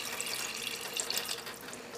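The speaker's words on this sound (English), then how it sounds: "add the water for the gravy. I'm adding almost 1 cup of water." About one cup of water pours into aloo gobi curry gravy of potato and cauliflower in a pan, a steady close splashing gush with small bright drips, without voices.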